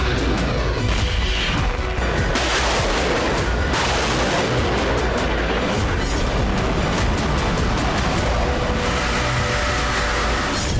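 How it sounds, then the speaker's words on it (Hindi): Explosions and artillery fire during the war in Odesa, a dense, continuous roar of blasts and crackling impacts, loud and sustained with rumbling bursts throughout. "ओडेसा में पिछले 72 घंटे से बारूद बरस रहा है। ऊर्जा, गैस और बंदरगाह पर कई धमाके हुए हैं।"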